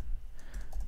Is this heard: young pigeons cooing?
no